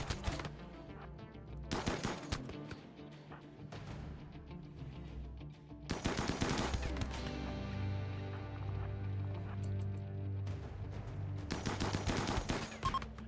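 Bursts of automatic gunfire during a raid in the video game RimWorld, colonists firing on raiders in several separate rapid volleys between short quiet gaps, the later bursts over a low rumbling drone.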